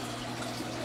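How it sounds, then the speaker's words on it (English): Water spilling steadily through a home-built aquarium waterfall tank, a continuous even rush with a low mechanical hum underneath. "But this is the back side of what the waterfall looks like."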